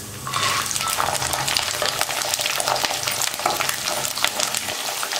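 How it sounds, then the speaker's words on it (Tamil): Garlic cloves dropped into hot oil with fenugreek seeds for a garlic curry, a dense, loud crackling sizzle that starts abruptly and keeps spitting steadily, heard close with no talk. "இப்போ நம்ம எடுத்து வச்சுருக்கிற பூண்டு போட்டுக்கலாம்"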